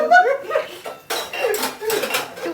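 Dishes and utensils clatter and clink in short, bright knocks inside a home, close by, with voices murmuring briefly among them.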